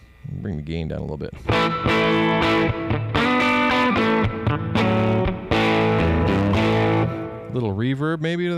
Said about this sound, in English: Bring the gain down a little bit.